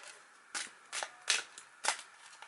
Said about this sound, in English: let's shuffle the cards and see what's in store for Bobby